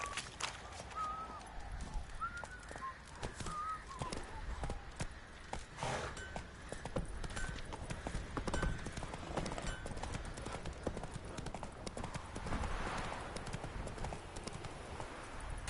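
The horse Roach trots through The Witcher 3 with continuous close clip-clop hoofbeats, joined by soft breathy snorts and scattered bird-like chirps over a busy ambient bed, the trotting steady for the whole stretch.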